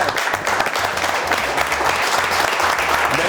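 Studio audience of an Azerbaijani comedy talk show clapping loudly and continuously, a thick, close burst of applause with a low crowd murmur beneath it.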